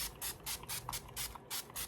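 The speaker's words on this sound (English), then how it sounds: "I was going with my hypochlorous acid daily facial spray" Hypochlorous acid daily facial spray misted from a pump bottle during a get-ready routine: eight short, even hissing bursts in a steady rhythm, close and clear with no talking.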